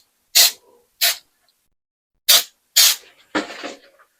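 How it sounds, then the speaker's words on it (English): Baking spray hisses from a can onto a baking pan in five short, sharp bursts, close and loud, with quiet gaps between them. "I'm going to give it a light spray with some baking spray"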